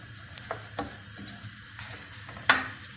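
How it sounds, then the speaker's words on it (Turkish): Onions sautéing in a pot for onion soup while being stirred slowly, soft sizzle under scattered spoon clicks and scrapes, one sharper knock near the end, close and fairly quiet with no voices. "soğanımı ilave ediyorum. yavaş yavaş karıştırıyorum."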